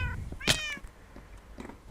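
A cat in the Minecraft video game gives a single clear meow that stands alone over faint background noise.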